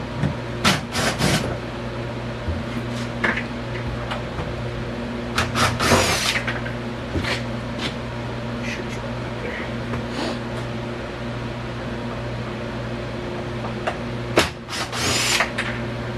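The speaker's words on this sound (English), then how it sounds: "I'm going to pop those 4 screws out, show you the coil." A cordless power drill backs screws out of a coil housing while stripping down an appliance for a homemade germination chamber, giving several short whirring bursts over a steady low mechanical hum, close and moderately loud.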